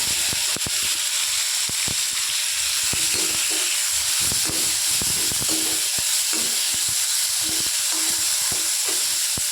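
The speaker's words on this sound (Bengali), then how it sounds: "এবার দিয়ে দিচ্ছি ছোলা আলু সিদ্ধটা" Boiled chickpeas and potatoes hit hot oil seasoned with turmeric and pepper, setting off a steady loud sizzle and hiss broken by repeated scraping and stirring taps, with no talking.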